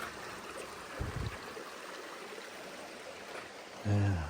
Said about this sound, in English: Don't know where all this water comes from, but it sure is flowing.